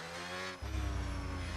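A race car in a sim racing league video game brakes into a corner at the Brazil circuit, its steady engine tone dropping sharply as it downshifts, then a rougher, louder rumble with tire noise.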